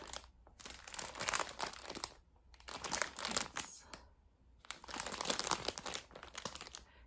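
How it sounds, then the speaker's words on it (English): A plastic bag holding yarn packages crinkles and rustles in three bursts separated by short pauses, quiet and close by, with no talking. "I apologize for the crinkling"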